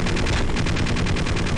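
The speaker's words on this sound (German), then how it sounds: "Trotzdem schießt der Hubschrauber noch." A helicopter in the video game Half-Life fires its gun in one loud, dense rapid-fire burst that fills the whole moment.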